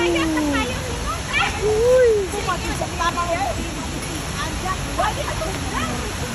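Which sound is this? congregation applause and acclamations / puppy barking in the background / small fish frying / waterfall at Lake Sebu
waterfall at Lake Sebu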